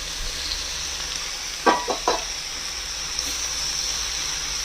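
Previously fried eggs tipped into a hot frying pan with soy sauce for a quick egg bhaji: a few short close scraping, stirring knocks over a steady, faint background sizzle.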